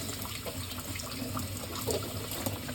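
A bell pepper is rinsed out under running tap water, the faucet pouring a constant close-up gush with small splashes and gurgles as the pepper fills and empties.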